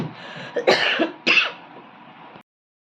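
A person close by clears their throat and coughs a couple of times in short harsh bursts, then falls quiet.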